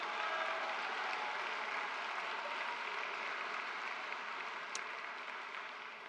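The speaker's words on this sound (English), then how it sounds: "Let's give them a round of applause." Audience applause at the Lindsay Thurber Comprehensive High School Class of 2025 graduation ceremony: a dense, steady wash of many hands clapping that holds for several seconds and then slowly fades.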